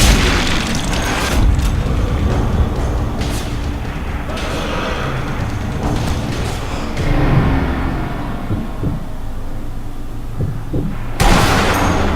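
Gunfire and explosions from the video game Sniper Elite V2, with a dense, continuous barrage of booming blasts and shots filling the whole stretch at high volume, a sharp burst standing out near the end.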